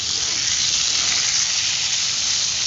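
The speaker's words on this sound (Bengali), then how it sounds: "আলুটা লবণ আর হলুদ জিনিস দিয়ে ভেজে নিচ্ছি" Potato pieces fry with salt and turmeric in a pan over a high gas flame, giving a steady, close, bright sizzle and hiss that holds evenly throughout with no talking.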